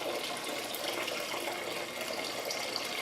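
Water pours continuously out of a flooded car engine into a bucket, a steady close gushing splash that holds at an even level without pause.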